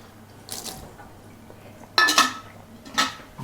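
Rinse water is tipped out of a pour-over coffee filter setup in brief splashing bursts with light clinks of brewing gear, fairly quiet and close, with no talking.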